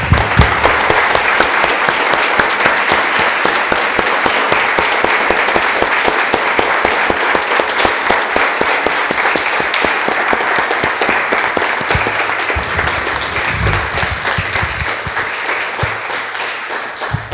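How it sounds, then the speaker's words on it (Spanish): Sustained applause from a church congregation fills the space, dense steady clapping that holds loud throughout and thins slightly toward the end, with no talking over it. "Damos un aplauso, hermanos."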